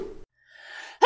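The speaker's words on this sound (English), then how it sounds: "Sneeze." A single sharp sneeze: a quick intake of breath, a brief pause, then a short explosive burst, close and clear with nothing else around it.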